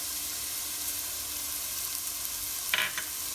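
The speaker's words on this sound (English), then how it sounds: "I'm going to stir this up." Chopped onion coated in garam masala sizzles steadily in a hot pan, a soft even frying hiss, with a short scrape of stirring near the end.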